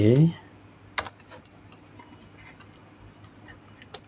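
Computer keyboard keys pressed as a Ctrl+T table shortcut in an Excel spreadsheet, heard as a sharp click near one second and a few lighter taps later, faint and close, with no talking.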